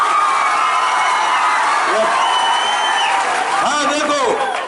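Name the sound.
audience applause and cheering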